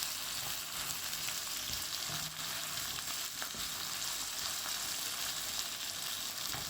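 Tomatoes frying in a pan give an even, soft sizzle with occasional stirring scrapes, heard close and continuous, no talking.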